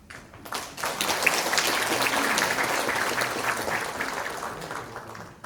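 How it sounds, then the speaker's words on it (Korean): Warm applause from an assembled audience welcomes guests at a Sejong City Council event, swelling quickly after a quiet start and holding as a dense, steady clatter of many hands before easing off. "한 분 한 분 호명할 때마다 뜨거운 박수로 맞이해 주시기 바랍니다"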